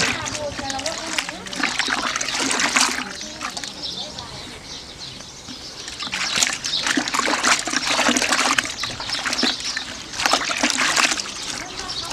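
Liquid fermented feed mix for fattening cattle being poured and dissolved in water, with a steady trickling and splashing pour in bursts, near and fairly loud, while someone talks over it.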